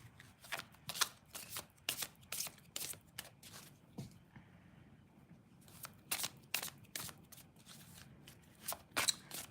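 A deck of oracle cards is shuffled up close in bursts of quick papery riffles, each flurry a run of sharp flicks, broken by a short quiet pause partway through.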